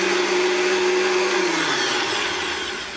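A blender filled with dish soap and water whirs loudly with a high, steady motor whine, then its pitch drops as the motor begins to wind down.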